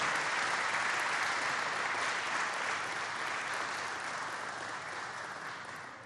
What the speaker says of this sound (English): Let's give the governor another great round of applause.